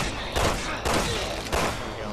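Gunfire in the Resident Evil 6 video game, a few loud bursts of shots packed close together over steady background game noise, with no talking.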